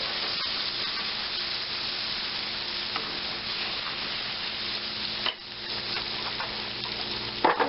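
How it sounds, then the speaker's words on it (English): Minced garlic sizzles in a hot pan with buttery spread, a continuous close frying hiss with soft stirring scrapes, briefly dipping as the pan is moved, and no talking. "we're going to take 1 clove of minced garlic, stir that around a bit"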